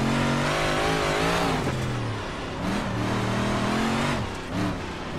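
Dirt-track race car engine in iRacing at Husets, a loud, close, torquey motor rising and falling in pitch as the throttle is fed in and eased off, with a brief dip midway before building again.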